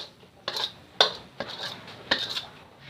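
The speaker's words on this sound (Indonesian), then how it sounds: "Kita langsung tuang ke piring." Fried chicken noodles scraped from a pan onto a plate, a few sharp metallic clinks and scrapes of utensil against cookware spaced irregularly, close and clear with no talking.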